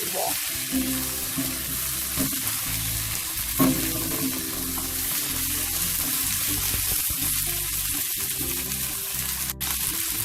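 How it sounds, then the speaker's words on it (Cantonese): Loud, continuous sizzling as large prawns are stir-fried in a wok with garlic, ginger and shallots, with repeated scraping and tossing strokes of a spatula, close up and no talking. "爆香之後咧，就將我哋嘅蝦回鑊。"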